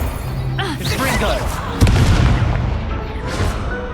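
A Confringo blasting spell goes off in the Hogwarts Legacy video game with a sharp boom partway through, over a rumbling game soundscape and a talking voice.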